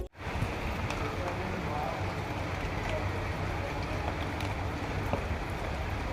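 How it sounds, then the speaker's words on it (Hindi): Steady rain hissing and pattering continuously over a low rumble, a dense wash of sound with no voices, close and fairly loud throughout. "अभी आ गई बारिश, अब ठंडा मौसम हो जाएगा पूरा।"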